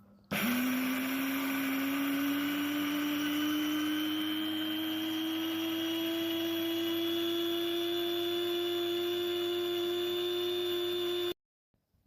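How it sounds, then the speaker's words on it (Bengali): An electric blender grinds fried rice with onion, chili and garlic into a spicy rice powder, its motor starting abruptly and droning loud and close in a steady whine that climbs slightly in pitch for about eleven seconds before cutting off. "আর এখন আমি ব্লেন্ড করে নিচ্ছি।"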